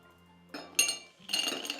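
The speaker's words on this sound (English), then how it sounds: "we will place the ice cubes on the plate" Ice cubes set down on a plate, giving a few light clinks and a short clattering rattle of ice against the dish, close by and fairly quiet.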